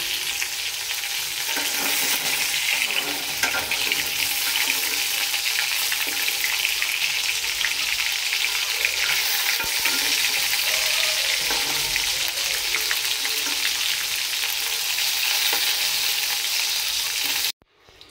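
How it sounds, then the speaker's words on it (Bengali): Potatoes frying in hot oil in a pan after chicken has been browned, a loud continuous sizzle and crackle lasting almost the whole time before cutting off abruptly, with no talking. "এখন আমি আলু ভাজা দিব"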